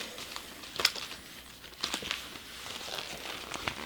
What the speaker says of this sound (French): Alors, c'est une petite pochette comme ça zippée.